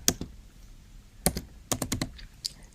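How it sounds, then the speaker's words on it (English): Keys clatter on a computer keyboard in a quiet room, a few scattered taps followed by a quick burst of several keystrokes, close and fairly soft. "you would find this symbol by searching for it, and you would type in"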